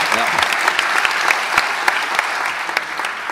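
An award gala audience breaks into brisk applause, dense clapping filling the room with a few sharper claps standing out, while a voice briefly speaks at the start.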